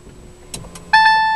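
The key turns in a Peugeot iOn electric car with a soft click and rattle, then two clear, ringing chime tones sound close by as the car switches on.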